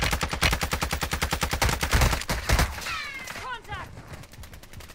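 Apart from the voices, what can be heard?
gunfire in a video game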